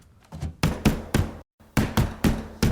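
Knuckles rap on a door in two bursts of three firm knocks each, close and loud with a short pause between the sets, in an audio drama scene.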